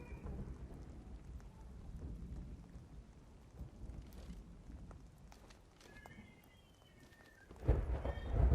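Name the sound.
thunderstorm with rain in the video game The Cycle: Frontier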